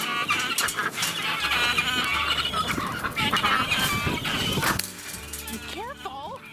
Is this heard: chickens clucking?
yes